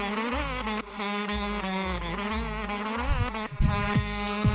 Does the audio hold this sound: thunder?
no